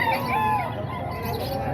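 Rooster at a Filipino poultry market, a seven-month-old stag of Gilmore line, giving clucking and crow-like calls over steady market crowd noise, fairly near and moderately loud.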